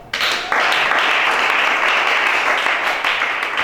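A congregation breaks into loud, sustained applause. Many hands clap together in a dense roar that swells after a moment and then holds steady.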